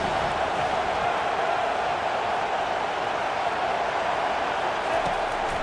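Dense roar of a big college football stadium crowd cheering for the defense on a third down at Penn State, a steady wash of voices with no breaks, loud and distant-sounding.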